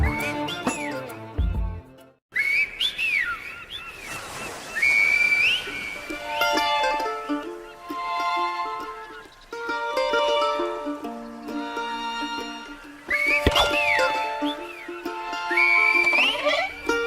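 A farewell whistle among Amazigh people, heard as melodic rising and falling whistled phrases, loud and close, repeated several times with short pauses between them.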